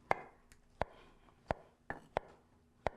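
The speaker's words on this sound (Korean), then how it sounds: "버섯도 이렇게 다 이렇게 따로 썰어주세요." A knife slicing mushrooms on a cutting board makes six crisp, evenly spaced taps, close and clear, in a quiet kitchen.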